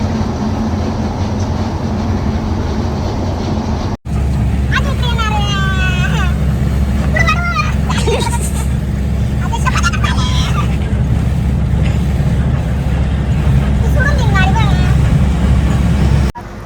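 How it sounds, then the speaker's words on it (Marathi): A steady, loud engine rumble runs throughout, with people talking over it and a brief cut partway through. "मॅडम गाडी चालते ऐकायला"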